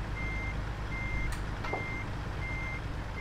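Truck reversing alarm in a trucking video game as a trailer is backed up: evenly spaced beeps over a steady engine drone, with a brief hiss of air partway through and no talking.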